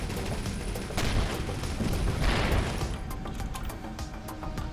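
Ship weapons pounding a wreck in the space game Avorion, a steady wash of booming impacts and rapid fire with swelling blasts, continuous and fairly loud throughout.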